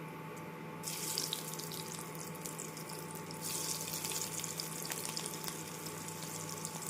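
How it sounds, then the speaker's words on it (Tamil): Cauliflower fries in hot oil in a kadai, giving a steady, quiet hiss and sizzle that brightens after the first second and holds without pause. "எண்ணெய் சூடானதும் காலிஃப்ளவரை சேர்த்து விடலாம்"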